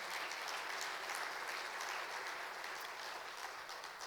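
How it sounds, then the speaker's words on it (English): A large audience at a business chapter awards event gives a sustained round of applause, a dense, steady roar of clapping lasting about four seconds, with no talk over it. "can we have a big round of applause for the entire EXCOM?"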